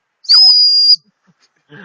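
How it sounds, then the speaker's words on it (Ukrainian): An old toy whistle dug up while metal detecting gives one clear, steady, high-pitched blast of under a second, loud and close, followed by a faint voice. "А, свистулька!"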